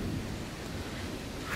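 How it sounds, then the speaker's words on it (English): A heavy thunderstorm with very close lightning and pouring rain, a dense continuous roar of rainfall and low rumbling, loud and unbroken without any voices. "Lots of very close lightning"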